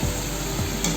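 Chicken marag and mixed vegetables stirred and frying in a pan, a short steady sizzle with a faint scrape of stirring, close and alone.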